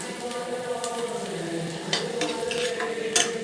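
Onions sauté in a pan, about five minutes in and still pale, with a continuous close sizzle and repeated scraping stirs and light clinks of a spoon against the pan, no voices.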